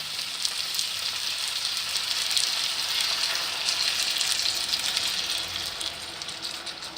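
Water poured into a hot pan of stuffed tomatoes, giving a loud, steady hissing sizzle that swells slightly in the middle and continues without pause.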